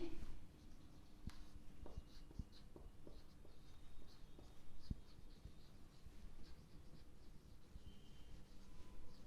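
A pen writing on paper, heard as close, soft scratches and taps in irregular strokes, quiet, with faint room noise and no talk.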